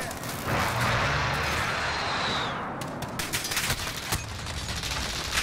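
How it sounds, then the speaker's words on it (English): Rapid gunfire in a video game crackles in a dense, sustained burst and then gives way to scattered sharp shots, with heavy background noise and a player talking. "Who's shooting me?"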